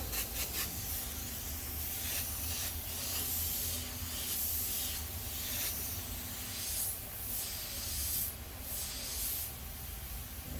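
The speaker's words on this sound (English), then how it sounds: "this airbrush is actually spraying really good" A steady airbrush hiss sprays thick paint straight from the bottle through a 0.3mm nozzle continuously, with brief bursts swelling louder now and then, close to the microphone and with no talking.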